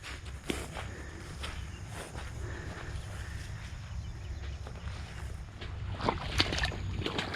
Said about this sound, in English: Why does it sound like you're walking in water, Hardy?